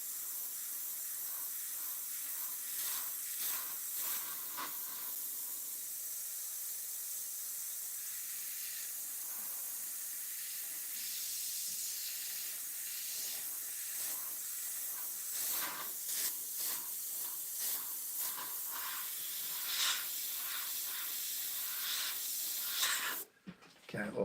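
Spray gun hissing steadily while clearing overspray on a flame paint job, a continuous airy spray with short pulses and bursts, close and fairly even, ending abruptly.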